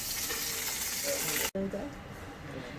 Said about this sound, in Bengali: এই যে তেলের উপরে এখন সর্ষে শুকনো লঙ্কা ফোড়ন দেওয়া হয়েছে